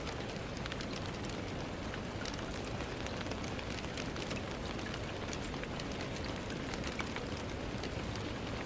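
Steady, heavy rain pours without pause, a dense continuous hiss of drops on surfaces that stays even and loud throughout with no voices.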